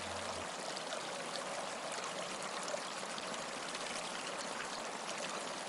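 Water running steadily through a leak in a beaver dam, a continuous soft rushing trickle with no other sounds, fairly faint and unbroken.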